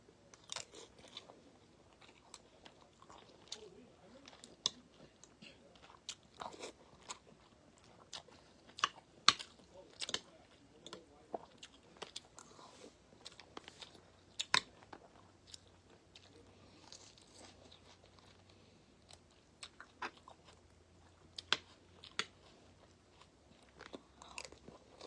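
Someone close by bites and chews a crunchy apple. Crisp, irregular crunches repeat quietly over a long stretch, with no talking.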